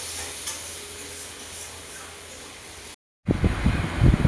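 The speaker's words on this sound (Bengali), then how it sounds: "এখানে মা দেখি তো সেই মাছ ভাজা করতেছে" Fish fries in a pan with a steady, soft sizzle, broken by a short silence and followed by louder clattering and stirring noises.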